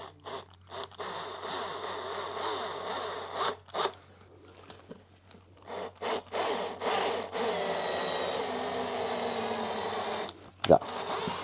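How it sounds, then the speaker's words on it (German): A cordless drill driver drives a screw to fasten a tee nut while fitting headrests to a sleeping bench in a T2 VW bus, with short bursts of whirring and rasping and then a longer steady run, with speech between. "ziehen die dann mit dem Akkuschrauber erstmal fest an"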